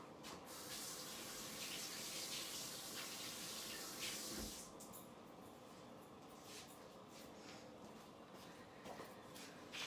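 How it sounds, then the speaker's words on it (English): Tap water runs steadily into a kitchen sink while hands are washed under it, a close, continuous splashing hiss that eases slightly halfway through. "I'm gonna wash my hands and then I'll move the camera"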